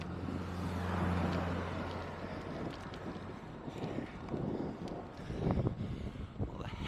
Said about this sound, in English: Car behind me, hold on.